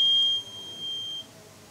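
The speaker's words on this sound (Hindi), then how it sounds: "यहां पर यह बजर बजना स्टार्ट हो जाएगा" A cheap homemade laser security alarm's buzzer sounds as a steady high-pitched electronic beep in two long tones with a brief gap, close and clear without speech.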